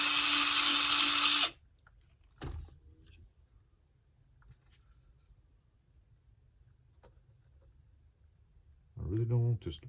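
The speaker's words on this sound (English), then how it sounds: "Drill out my hole here a little bit." A drill boring out a hole during main landing gear installation on a Seagull Mosquito model aircraft gives one brief, loud whirring burst at the start. Quiet handling noises follow, and a voice comes in near the end.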